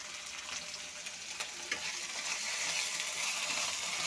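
Ginger paste and cumin paste fry in a pan for a bottle-gourd dish, a soft steady sizzle with occasional stirring clicks that grows slightly fuller toward the end, no voices.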